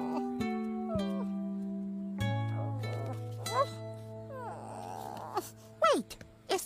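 A small puppy whimpers and whines in a series of high, wavering cries with rising and falling pitch, near and fairly quiet over a low steady tone, ending in a few sharper yelps.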